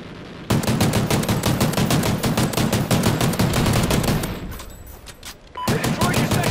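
Rapid automatic gunfire in Call of Duty: Ghosts free-for-all multiplayer, with loud sustained bursts of machine-gun fire, a brief lull, then another burst.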